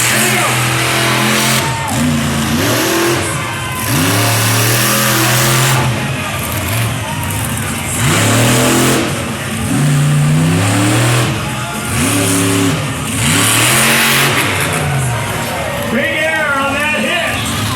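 A hot monster truck engine fires back up and revs repeatedly, its pitch climbing and falling in loud sweeping waves, with an announcer's voice talking over it.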